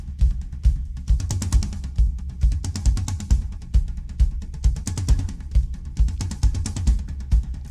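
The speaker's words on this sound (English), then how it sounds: "Listen to this freaking drum playing." Tribal-style rock drumming, a steady pounding pattern of heavy kick and tom hits with crashing cymbals, loud, dynamic and continuous throughout.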